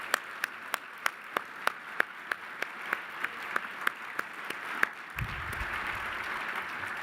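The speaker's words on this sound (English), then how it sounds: "Now that deserves a huge round of applause" Scattered claps from an audience at a city's State of the City address, steady and evenly spaced at first, then swelling into a broader, softer wash of applause near the end.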